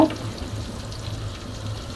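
Chicken pieces fry in lightly heated oil, a steady soft sizzle and crackle running continuously with a small clatter at the start, close and fairly quiet.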